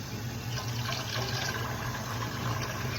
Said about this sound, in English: I'm just washing it out with water